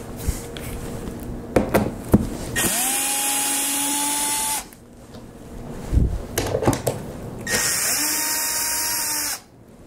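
A power drill backs screws out of a wooden crate cover holding a Tosa Tool TT1634C machine, whining up to speed in two sustained runs with clatter and handling noise around them.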